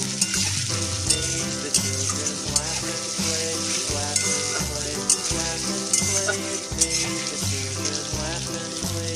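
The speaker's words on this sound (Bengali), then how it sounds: "তো এটা কিছুক্ষণ নাড়তে হবে" Ginger garlic paste and onions sizzle in a pan while being stirred, a loud continuous fry sound with utensil scrapes, partly covered by steady rhythmic background music.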